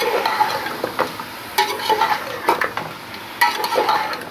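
Mutton sautéing in a pan for yakhni pulao, with repeated stirring scrapes and utensil clatter over a steady sizzle and no talking.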